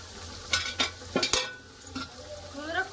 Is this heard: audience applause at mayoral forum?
no